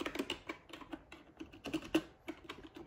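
Keys on a new gaming keyboard clatter in an irregular rapid run of soft clicks, close and fairly quiet.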